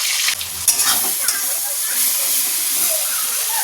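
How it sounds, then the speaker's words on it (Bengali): Potatoes fry in a pan with hot oil, a loud continuous sizzle and hiss filling the scene, punctuated briefly by a stirring clatter near the start. "এখানে আলু ভাজা হচ্ছে"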